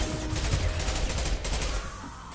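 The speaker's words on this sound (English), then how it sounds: "Firing a high-impact shot!" Gunfire in the video game Mass Effect, a dense, continuous rattle of rapid shots and impacts, loud and close, steady for a couple of seconds with no voices.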